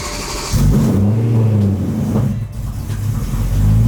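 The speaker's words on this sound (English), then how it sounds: "Actually gonna try to start the car right now and see if it starts." A BMW E36 M3 engine cranks and catches after sitting unused for weeks, then runs with a steady low rumble that dips briefly before settling back, loud and close.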